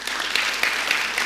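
Audience applause, a short burst of dense steady clapping, close and even in level throughout.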